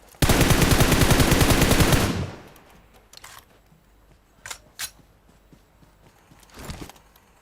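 Gunfire in PUBG Mobile: a loud, close, sustained automatic burst of about two seconds, followed by a few faint, scattered single shots and clicks in near silence.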